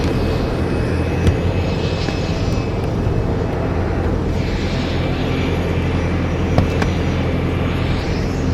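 A small plane, tail number N263NE, runs its engine in a steady loud drone close by, a constant throbbing roar that holds without pause and carries no talk.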